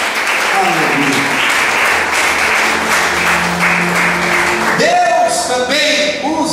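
Church congregation applauding in praise during a worship service, steady dense clapping sustained throughout, with a preacher's voice and musical tones rising over it near the end.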